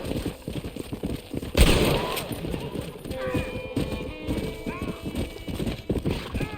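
Hoofbeats of a horse in the video game Red Dead Redemption thud under a sharp burst near the start, then continue with a whinny-like rising tone, amid busy game ambience.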